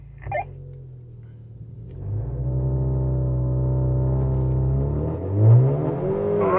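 A Honda Accord 2.0T Sport and a VW Jetta GLI with DSG accelerate hard side by side in a race, heard from inside as a deep engine drone climbs steadily in pitch, with a brief early knock and a shift-like dip near the end.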